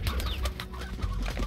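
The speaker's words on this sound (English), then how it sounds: "Does that refresh the roosters?" Poultry in the video game Slime Rancher cluck and coo in short, busy bursts over a steady ambient background, with no clear rooster crow standing out.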